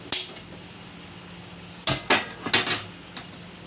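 A kadai set down on a kitchen stove while cooking chicken pulusu: a sharp metallic clang followed by several quick clattering knocks of metal on the burner grate, close and loud in an otherwise quiet kitchen.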